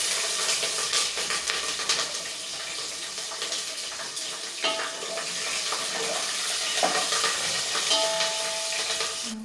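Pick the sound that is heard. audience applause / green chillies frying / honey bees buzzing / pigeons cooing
green chillies frying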